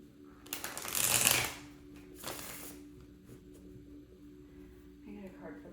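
Tarot cards are shuffled in two quick riffling bursts close by, followed by soft handling sounds and a brief quiet rustle near the end.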